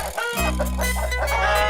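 Hens in a hen house cluck in a loud, busy run of close, repeated calls with no talking over them.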